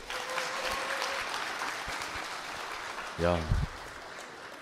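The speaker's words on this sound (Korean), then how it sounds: "여러분 박수 한번 보내주시죠" Guests applaud at a wedding ceremony in a hotel, a steady wash of clapping at moderate distance, briefly overlaid by a short spoken exclamation.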